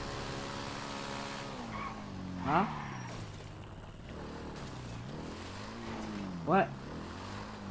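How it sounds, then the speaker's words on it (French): A tractor engine drones steadily nearby, its pitch rising and falling slowly. A couple of short spoken words break in briefly over the engine. "Désolé si vous entendez le bruit de tracteur."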